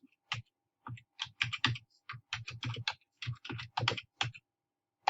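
Close, crisp keystrokes on a computer keyboard come in quick uneven bursts with brief gaps as a web address is typed, isolated against near silence.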